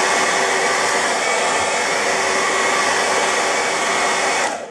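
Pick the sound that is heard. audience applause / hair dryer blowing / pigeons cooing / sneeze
hair dryer blowing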